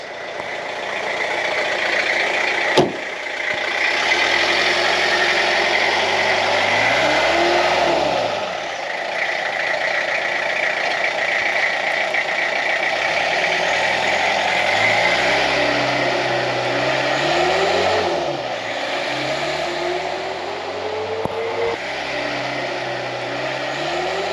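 Restored scrap-yard Peugeot P4 engine driving on private roads, a steady mid-pitched drone that rises and falls through repeated revs and gear changes, loud and close with no voices.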